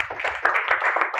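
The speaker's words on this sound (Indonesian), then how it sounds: "Tepuk tangan buat Tuhan Yesus, yes" Short burst of hand clapping from a church congregation applauding for Jesus during a service, a dense, steady patter of many hands lasting just over a second.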